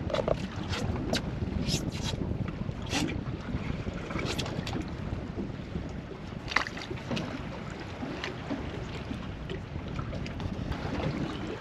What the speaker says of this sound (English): Man, it's windy out here.